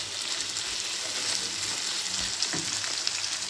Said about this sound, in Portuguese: Agora vou adicionar a cebola em cima do molho.